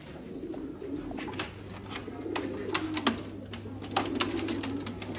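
Pigeons coo softly and steadily nearby in low, throaty rolling calls, with scattered sharp rustles and clicks over the top and no talk.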